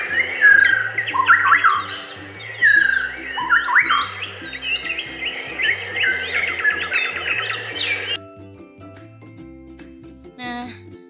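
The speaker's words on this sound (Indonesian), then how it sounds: "itu tadi adalah suara kicau burung" Birds chirping in a birdsong recording, a dense mix of quick squawks, whistles and tweets layered over one another, with a clipped cut partway through and a brief final burst of chirps.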